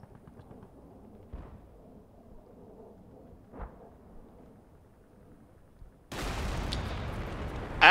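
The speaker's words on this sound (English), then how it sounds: "somebody's shooting the BRDM." Gunfire aimed at a BRDM armored vehicle in a tactical war video game set in a snowy battle: a low rumbling backdrop with a couple of muffled thumps, then a loud, sustained burst of heavy firing near the end.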